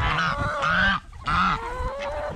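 A duck gives loud, close, harmonic quacking honks in two or three drawn-out bursts separated by a short pause, with no talk over it.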